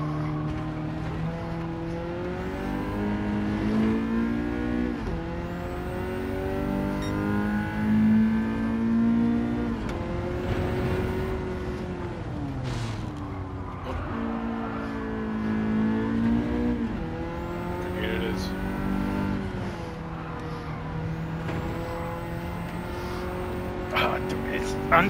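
Ford Sierra Cosworth race car in Gran Turismo 7 lapping the Nurburgring, its engine droning and rising through steady revs and gear shifts, continuous and prominent with someone talking over it.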